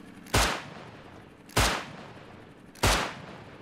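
Three loud gunshots in the video game Rust ring out about a second and a quarter apart, each with a booming decay over a steady background hiss.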